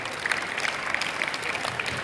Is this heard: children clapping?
yes